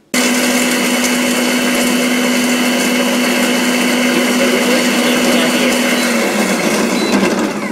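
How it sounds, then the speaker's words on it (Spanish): A Moulinex Clickchef food processor grinds Ferrero Rocher chocolates, a loud steady motor whir with a constant tone running throughout, shifting and roughening near the end as the load changes. "Comenzamos echando los 3 Ferrero Rocher y los ponemos a pulir."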